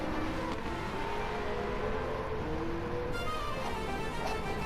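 A loud, buzzing race car with a swapped-in Mazda 787B rotary engine roars past, its high-pitched whine filling the whole stretch without pause.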